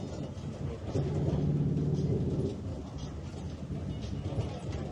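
A tourist train in Santorini rumbles along steadily with a low mechanical drone, a louder grinding stretch in the middle, and faint voices in the carriage.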